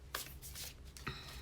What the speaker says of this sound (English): I'll do one more shuffle, and then we're going to do a deck cut